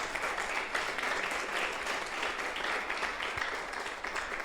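An audience applauds at a jazz encyclopedia presentation, a dense, steady wash of clapping from a sizeable crowd that continues evenly from start to finish with no pause, moderately distant.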